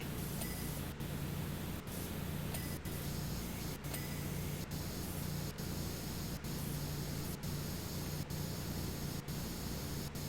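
Steady, loud hiss of a pressure washer spraying nonstop in Powerwash Simulator while cleaning a dirty Santa's workshop, with brief regular dropouts roughly every second and a low hum underneath.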